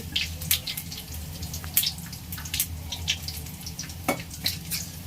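Spices crackle and pop in hot oil in a pan for chicken gravy, with scattered sharp sizzling bursts over a steady frying hiss and no talking.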